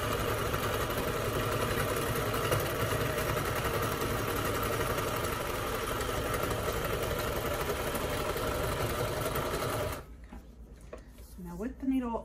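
A sewing machine top stitches the edge of a multi-layer fabric face mask, its steady mechanical whir running continuously and fairly close for about ten seconds before stopping, followed by a brief quieter pause.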